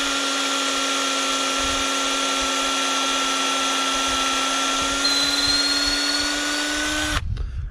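A drill bores a tap hole into a maple tree with a steady, close, high motor whine that holds for about seven seconds and then stops abruptly.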